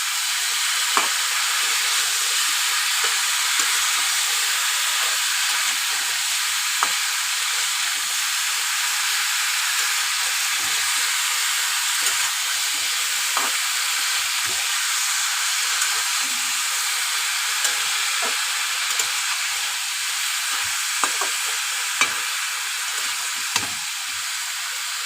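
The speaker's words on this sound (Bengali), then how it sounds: "দিয়ে আমি একটু ভালো করে কষিয়ে নেব।" Bottle gourd and amudi fish sautéing in a pan, giving a constant bright sizzling hiss with faint scattered stirring clicks throughout, with no talking.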